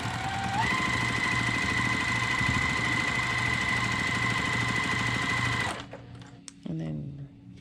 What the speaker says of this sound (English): we'll go ahead and just sew our seam